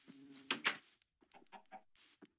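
Several short clucking calls from Minecraft chickens, fairly close and slightly synthetic in tone, with brief gaps between bursts.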